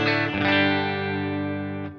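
Clean electric guitar through a Kemper profile based on a 1965 Fender Deluxe Reverb, ringing a sustained chord that holds steadily for about two seconds with a fresh strum near the end, with no talking.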